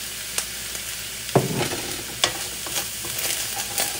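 Crab fried rice is stir-fried in a hot pan with a soft steady sizzle, broken by spatula scrapes and clinks, one louder toss near the middle, and no talking.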